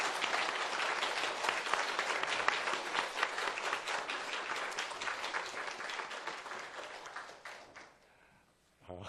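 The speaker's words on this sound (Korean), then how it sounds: "이런 마음으로 크게 박수로 모시도록 하겠습니다." A church congregation breaks into loud, sustained applause to welcome a visiting pastor before a Sunday sermon, then the clapping fades out near the end.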